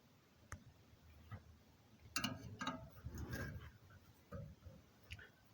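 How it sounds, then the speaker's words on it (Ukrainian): Wrench working a nut on a scooter variator during home balancing, giving a few quiet metallic ticks and ratchet-like clicks with a busier scraping patch in the middle, close and faint. "Ключком піджимаю."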